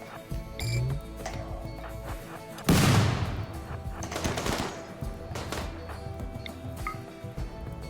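A single sharp sniper shot cracks loudly in the middle of a RimWorld battle, with fainter pops and taps scattered before and after.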